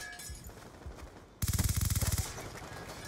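Rapid automatic gunfire from a weapon in a video game bursts in suddenly after a quieter stretch, a dense rattling string of loud shots that lasts under a second before fading into the game's ambient noise.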